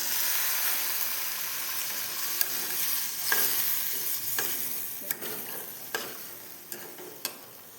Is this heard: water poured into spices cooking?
yes